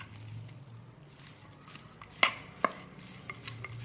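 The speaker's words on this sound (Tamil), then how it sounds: "இப்போது இதை நல்லா மிக்ஸ் பண்ணிக்கோங்க." Ven Pongal is stirred in a pot: a soft, thick mixing sound with a low hum underneath, then a few sharp clinks of a spoon against the vessel. Quiet overall and without talk.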